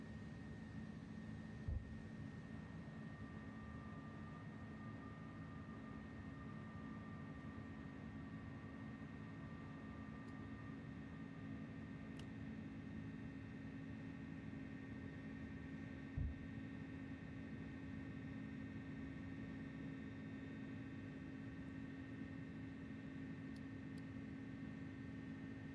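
An A300-600 airliner climbs after takeoff in Flight Simulator 2024, giving a faint, steady engine drone with a constant tonal hum and no talking.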